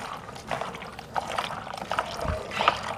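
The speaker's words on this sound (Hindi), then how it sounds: "अच्छे तरीके से इसको पानी डाल के वॉश कर लेंगे।" Water is poured over salted potatoes to wash them, a close, uneven trickling and splashing with irregular bursts over a soft background.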